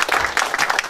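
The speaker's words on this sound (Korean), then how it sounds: "박수 부탁드립니다" Short burst of audience applause at a citizens' network policy seminar in Jeonju, a dense patter of clapping hands filling about a second at steady loudness.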